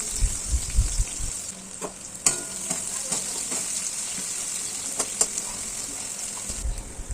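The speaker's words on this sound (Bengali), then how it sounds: "কালো জিরে দিয়ে এবার পেঁয়াজগুলো সব দিয়ে দিচ্ছি পেঁয়াজগুলো দিয়ে এবার একটু লাল লাল করে ভাজতে হবে" Sliced onions frying in hot oil with black cumin seeds for a fish curry, a steady close sizzle with a few soft spatula stirs and taps, no talking.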